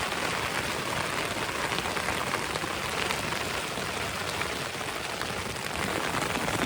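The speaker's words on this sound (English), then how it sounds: "And that is the sound of hail this morning." Hail falls on a tent fly sheet on the Isle of Skye, a dense, continuous hiss of pattering impacts that stays loud and even throughout, with no voices.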